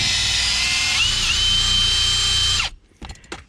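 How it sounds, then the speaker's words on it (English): Power drill driving a screw into plastic car interior trim while a B&M shifter is installed in a Pontiac Grand Prix: a loud steady whine lasts about two and a half seconds, then stops abruptly, followed by a few brief rattles. "I think the only thing I'm drilling into right now is"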